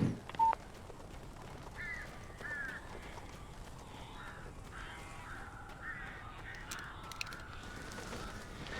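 Crows caw in the Alan Wake video game, a few harsh calls scattered over a steady low ambient game background, fairly faint and with no talking.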